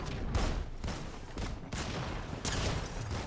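Rapid bursts of gunfire ring out in a Fortnite-style battle royale game, dense repeated shots in several waves over a steady roar, loud and close, with no talking.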